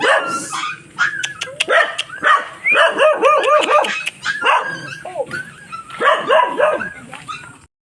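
Dog barking repeatedly in a rural Philippine barangay, a run of sharp, fairly close barks with short whimpering yips between them, loud and steady across the whole stretch.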